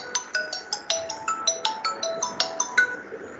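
A mobile phone ringtone chirps in a quick, regular electronic pattern of repeated bright tones, loud and close, with no talking over it.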